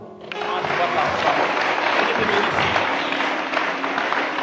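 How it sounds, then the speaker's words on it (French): Audience at a diocesan choir concert in Kolda bursting into applause, a steady wash of crowd clapping with voices and cheers mixed in throughout. "Applaudissez la dame."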